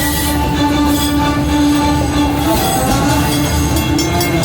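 A Magic Kingdom train engine runs on the rails from Main Street Station toward Frontierland, a loud, steady rumble with a sustained squealing whine from the wheels, close and continuous.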